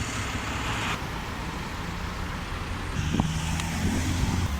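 Steady road traffic with trucks passing close by along a roadside in Leicester, a continuous broadband engine and tyre rumble that swells slightly toward the end, with no talking.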